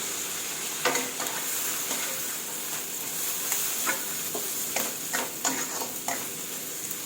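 Bamboo shoots being stir-fried in a pan with a little water, giving a steady hiss of sizzling broken by irregular scraping stirs of the spatula, close and fairly loud with no talking.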